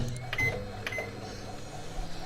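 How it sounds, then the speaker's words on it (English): A low, steady hum runs throughout with a couple of faint beeps and clicks, quiet and indoors, as a microwave oven heats water. "that's why you heard the microwave"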